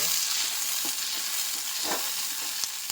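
Green chilies frying in oil in a kadai, a steady bright sizzle with scattered stirring scrapes and clinks, close and fairly quiet with no talk.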